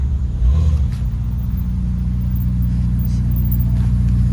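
A Ferrari SF90 rumbles nearby with a deep, steady engine drone and a slight rise early on, loud and continuous throughout.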